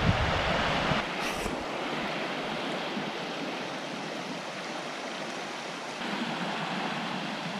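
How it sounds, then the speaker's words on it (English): Stream flowing past a campsite in the Lake District, Cumbria, a steady close rushing of water with some wind buffeting at the start. "Stream that passes our campsite."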